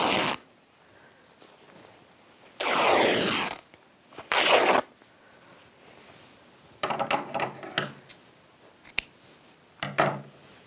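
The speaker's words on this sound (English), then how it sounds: "We're going to rip it right down the middle of the sheet." A cotton flat sheet being ripped down the middle by hand, several loud close tearing bursts separated by quiet pauses, then shorter rustling rips near the end.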